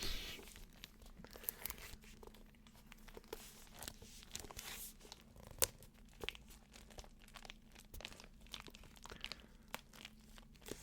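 Plastic blister packaging of a manga item crinkles and crunches steadily as it is handled up close, with small sharp crackles scattered throughout and no talking.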